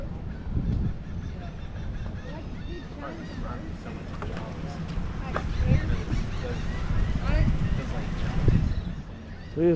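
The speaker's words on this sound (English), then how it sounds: "Look at this big old bird over here eating fish." Birds at a pier where they are eating fish give several honking calls, scattered through constant wind noise and low rumble, with people talking and some chatter nearby.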